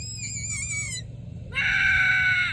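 Zombie screams from a zombies video game: a raspy, wavering shriek breaks off, then a second louder, sustained screech follows, harsh and close with no talk.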